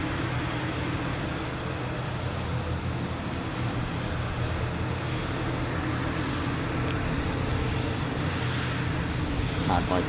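An F-15 fighter jet with two Pratt & Whitney F100-229 engines flying near RAF Lakenheath, heard as a steady, loud, broad engine roar throughout, with people talking over it.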